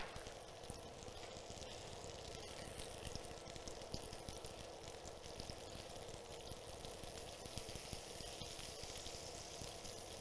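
Turbot fillet and butter sizzle in a hot pan, a dense, steady crackling hiss that keeps up evenly without a break and with no voices.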